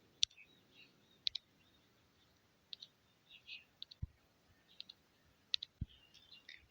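A computer mouse clicks in sparse, sharp single and double taps at close range, faint against a quiet room, with a voice murmuring softly between the clicks.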